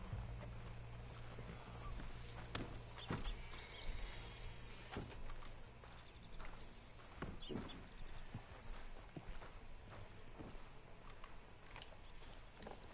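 Horse hooves clip-clopping in Red Dead Redemption 2, irregular hoof steps with scattered sharp knocks over a low steady ambient hum, faint and fairly close, with no talk.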